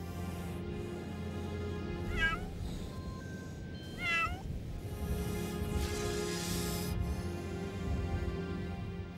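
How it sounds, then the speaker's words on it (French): A sand cat in the desert gives a few short rising meows, spaced several seconds apart, over a continuous low background drone, with a faint hiss late on. "Le chat des sables est respecté par les nomades."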